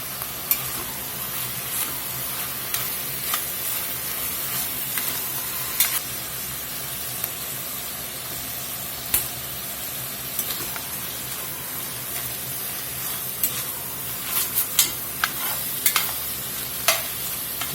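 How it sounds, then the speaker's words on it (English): Meat seasoned with all-purpose seasoning fries and browns in a pan for a spaghetti bake, a constant close sizzle with occasional sharper pops and crackles and the scrape of stirring, no voices. "We're going to let this cook here until this meat is browned up."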